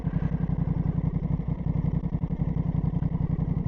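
Honda CB 750 Hornet motorcycle exhaust heard up close, a steady rapid pulsing engine note at idle, loud and continuous with no talk.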